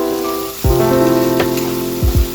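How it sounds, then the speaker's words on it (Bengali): Dried fish frying with onion in hot oil sizzles loudly and steadily up close, with a few clattering stirs of the pan and no one speaking. "তারপর শুটকিগুলো ভালো করে ভাজবো, পেঁয়াজের সাথে ভালো করে ভাজবো।"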